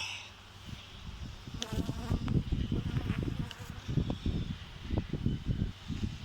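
Bees buzzing steadily close by at an open beehive in spring, a dense droning hum with busy fluctuating bursts throughout.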